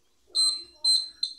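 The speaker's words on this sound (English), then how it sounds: "the alarm sound will start to ring" A small homemade earthquake detector alarm beeps in three short shrill bursts, close and fairly loud, with brief gaps between them.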